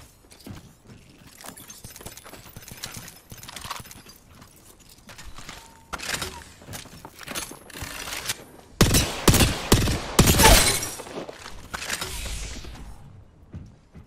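Gunfire in the video game Apex Legends: scattered single shots build into dense, loud rapid bursts near the end, with clattering impacts between them and no speech.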